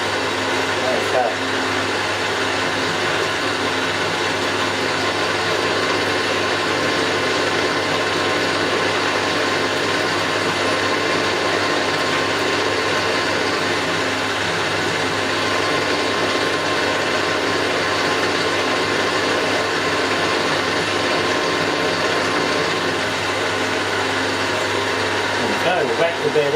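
Steady machining on a David Brown Selectamatic valve test plate: a continuous broadband grinding whir holds evenly loud and close throughout, with a low mechanical hum underneath and no pauses.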